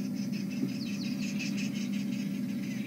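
Arrow-marked babblers chatter at dawn on a safari drive, a far-off rhythmic run of calls over a steady low vehicle hum and a constant insect-like background.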